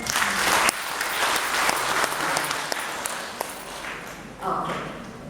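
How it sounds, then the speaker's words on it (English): Audience at a talk applauding together, a dense steady burst of many hands clapping that carries through and swells again near the end. "Shall we clap for ourselves?"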